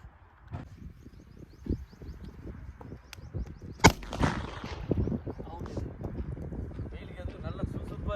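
A single sharp bang from a small firecracker pops out midway at a Sivakasi fireworks wholesale market, sitting over steady crowd chatter and outdoor bustle.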